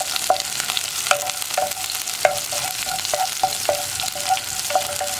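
Onions sizzle steadily in a hot pan, with a spoon scraping and stirring in regular strokes through the frying, close and fairly quiet with no talking.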